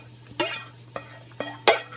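A spoon stirs a shrimp pasta cream sauce made with whipping cream, sending four short bursts of scraping and sloshing against the pan over a low steady hum, close and fairly loud.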